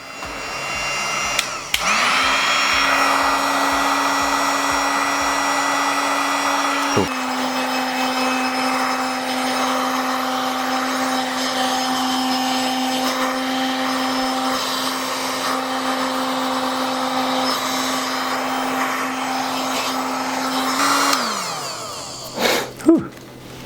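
A heat gun runs while a spoiler is fitted to an Arai Contour-X helmet, a steady droning whir with a constant tone that spins up after a click, holds for most of the stretch, then winds down, followed by a few handling knocks.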